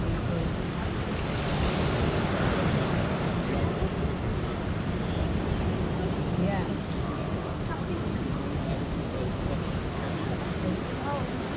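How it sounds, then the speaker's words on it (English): Ocean waves crash and wash along a shore in a continuous dense roar, with wind noise on the microphone and a voice faintly speaking beneath the surf. "I feel inspired by the waves and the craziness of the waves. Like they're coming in from all different directions and angles"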